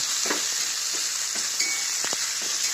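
Onions fry in oil for semolina upma, a close, steady sizzle with several sharp scrapes and clicks of stirring spread across the few seconds, with no voices.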